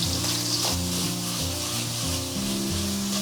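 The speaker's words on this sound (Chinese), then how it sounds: "接着我们下入鱿鱼，开大火给它爆炒10秒。" Squid is stir-fried over high heat in a wok with oil and aromatics, producing a loud continuous sizzle. Rhythmic scraping of a spatula tossing the food runs under it.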